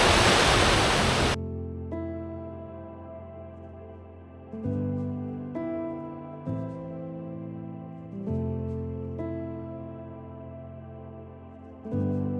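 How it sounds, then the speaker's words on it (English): A Welsh waterfall roars as steady rushing white water, loud and close, beginning with a burst of broadband noise and continuing as a constant wash with a few faint clicks, no voices. "I had to get in and see those waterfalls"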